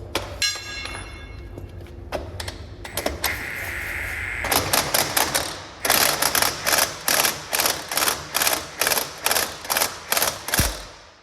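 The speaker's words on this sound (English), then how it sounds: "So now I can rattle this hubcap up with my nut gun." A nut gun rattles up the hubcap nuts on a DAF XG truck with rapid, loud bursts of ratcheting. After some workshop clatter, a regular run of about a dozen sharp impact pulses follows, close up.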